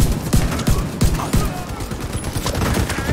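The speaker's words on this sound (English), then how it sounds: "What the fuck are you shooting at me for?" Dense, rapid gunfire from a cowboy-themed video game, with overlapping shots cracking in quick irregular bursts at close range throughout and no voices.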